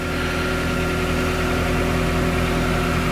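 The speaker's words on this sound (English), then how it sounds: "The motor's making a little bit of a rattle." A car engine, with its maintenance-required and check-engine warnings lit, idles with a slight rattle, giving a steady, close, continuous hum with no voices.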